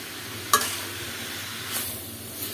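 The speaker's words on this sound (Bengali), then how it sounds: "এটা নাড়তে নাড়তেই পানি বের হবে" Soft sizzling of curry frying in a pan, with a few scraping stirs of a spoon breaking through the steady hiss.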